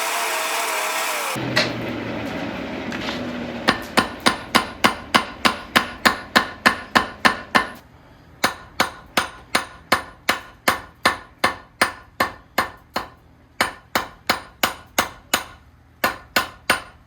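Hammer forging hot metal bar from square to round section on an anvil: after a brief hiss, a long run of sharp, evenly spaced ringing blows in bursts with short pauses, loud and close.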